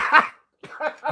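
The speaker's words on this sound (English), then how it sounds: "did you hear the cough that came out with that laugh?" A short burst of laughter breaks into a cough, then after a brief pause a few more rough, choppy coughing-laugh bursts follow, close and fairly loud.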